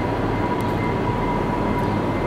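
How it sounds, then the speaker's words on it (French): A loud, steady rumble of a train rolling along the tracks at a Toronto station, continuous and close, with no voices. "Et une gare avec des trains qui bougeaient."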